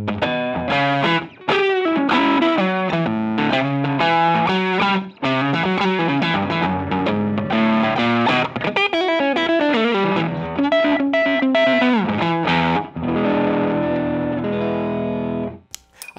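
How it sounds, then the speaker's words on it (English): An electric guitar played through a JAM LucyDreamer overdrive pedal rings out in a run of driven, slightly gritty notes and chords with short pauses between phrases, close and loud. "I find that this might be a little bit better as an always-on pedal because there is a lot more touch sensitivity."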